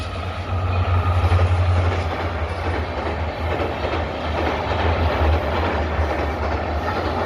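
A train rumbles steadily across the Kakdonga river bridge at the Chokiting tea garden in Assam, with a continuous low roar and wheel clatter close by.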